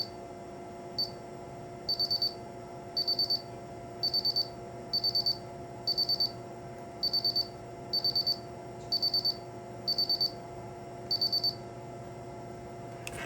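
A Paradox REM3 remote security alarm keypad sounds its arming countdown, a steady series of short triple beeps repeating about once per second, clear and close over a faint background hum.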